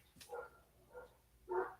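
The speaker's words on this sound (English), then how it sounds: "Sorry about the dogs barking." Neighbour's dogs bark three times at moderate distance, each bark a short muffled burst with pauses between them, the last one loudest.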